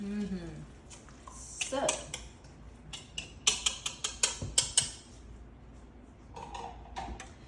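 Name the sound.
mixing Korean vegetable pancake batter in a bowl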